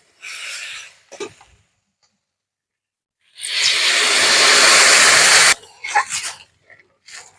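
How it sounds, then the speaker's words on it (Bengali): Water pours with a loud, steady hiss into a hot pan of cooking kholse fish for about two seconds, between brief bursts of kitchen clatter and faint movement. "জল দিয়ে দেবো"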